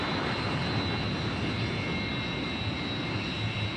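Su-27 fighter jet engine heard from inside the cockpit in flight after being throttled back, a steady, loud broadband roar with a faint high whine, continuous for the whole stretch with no talk.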